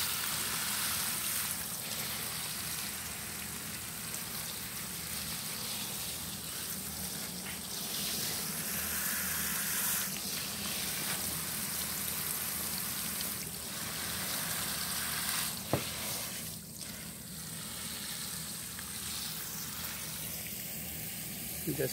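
Water pours and splashes steadily as chrysanthemums are watered from the side, a continuous hissing wash that stays fairly quiet throughout.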